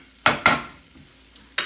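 Spatula strokes through a low-carb cheese steak mixture in a pan, two quick scraping stirs close together followed by a pause and another stir, with a faint sizzle underneath.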